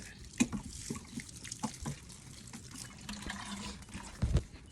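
Water trickles and splashes irregularly as a plant watering bulb is filled, with small drips and a brief louder gush near the end, fairly close and quiet.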